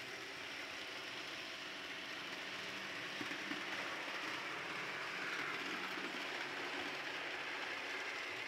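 A model B&M freight train with a Bicentennial 200 locomotive runs on a large layout, giving a steady, faint rumble with light clickety-clack of wheels over track, and no talking.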